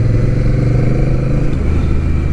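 Honda Rebel 1100 manual motorcycle ridden in rain mode, its engine a steady, loud low rumble that holds an even drone throughout without sharp revving.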